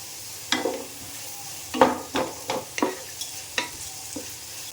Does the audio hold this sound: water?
no